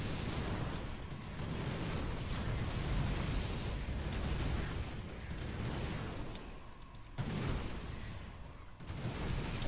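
Chrono-boosted cannons firing in the real-time strategy game Starbow, a dense continuous rattle of rapid shots and impacts under a constant battle din, with a few sharper bursts.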